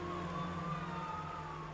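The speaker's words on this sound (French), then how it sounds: "en entendant les sirènes de l'ambulance" An ambulance siren sounds steadily, with a sustained wailing tone at moderate distance against a constant background hum; no one speaks.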